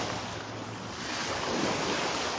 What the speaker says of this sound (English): Tide coming in.